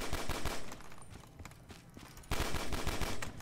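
Rapid pistol fire in Call of Duty Black Ops 3 zombies on a custom Mars map, quick tapped shots in uneven bursts, a quieter stretch mid-clip, then a louder volley near the end.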